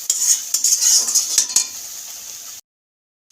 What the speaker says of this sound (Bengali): কষিয়ে নেব সরষে বাটাটাকে, ভালো করে একটু কষিয়ে নেব।